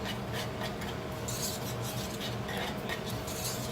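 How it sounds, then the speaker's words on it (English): A whisk stirs coconut cream pie filling in a bowl, giving a steady, close scraping and rubbing sound with faint utensil clinks throughout. "scrape the sides and then whisk until smooth"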